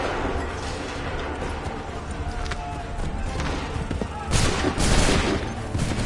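Soldiers in Assassin's Creed 3 fire a ragged musket volley amid a dense, noisy battlefield din, with the heaviest burst of shots rising near the end.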